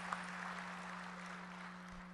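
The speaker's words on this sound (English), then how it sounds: "Go ahead and clap." An audience at a spring benefit event applauds, giving a faint, distant wash of steady clapping over a low electrical hum throughout.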